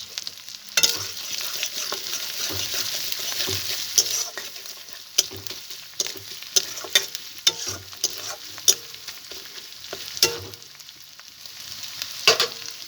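Bay leaf and cardamom sizzle and crackle in hot oil, a close, steady hiss dotted with small pops and occasional utensil clicks.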